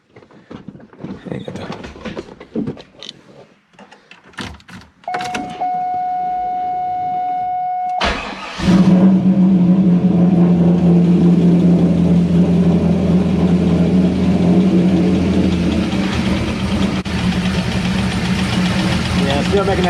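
A Chevrolet Corvette C5 Z06 with a suspected internal engine fault, heard after some talk and a steady whine: the starter cranks, then the engine catches and settles into a loud, rough idle with a knocking undertone.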